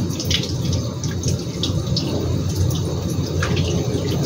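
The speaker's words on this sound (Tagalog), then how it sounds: "Dapat mahinang tubig lang." Gentle stream of tap water running steadily while fish is washed under it, a soft continuous splashing close by with small splattering accents, no talking.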